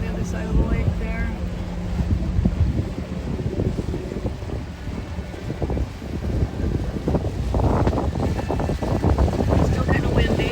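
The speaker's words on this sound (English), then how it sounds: "Still kind of windy, but a lot of that's just the apparent wind as we're cruising." Steady wind rushing over the microphone aboard a boat cruising across a lake at about 5 mph, a continuous broadband roar mixed with engine and water noise that stays loud throughout.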